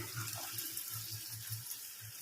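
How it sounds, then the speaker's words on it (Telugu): Water pours from a tap into a toor dal chutney pan, a faint close splashing trickle with a pulsing low gurgle throughout. "ఇందులో కొంచెం వాటర్ వేసుకొని వాటర్ కూడా వేసుకోవాలి"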